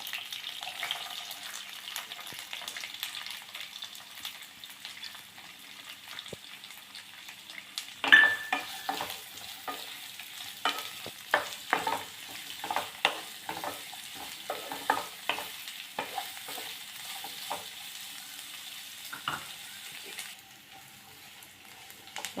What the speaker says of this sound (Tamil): நறுக்குன சின்ன வெங்காயம் சேர்த்துக்கலாம்.